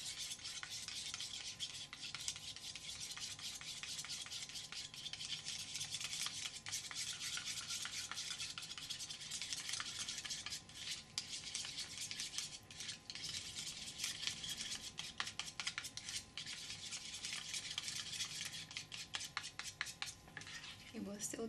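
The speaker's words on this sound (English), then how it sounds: "We'll give it a good stir." Anti-wrinkle peptide eye gel being stirred in a container, a faint continuous scraping and swishing with rhythmic light taps throughout, quiet and close with no talk.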